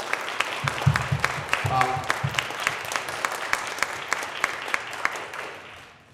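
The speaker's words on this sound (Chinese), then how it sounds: "有一个掌声好吗？" Congregation applause at a church retreat, irregular claps ringing out steadily for several seconds under a brief spoken voice, gradually fading away.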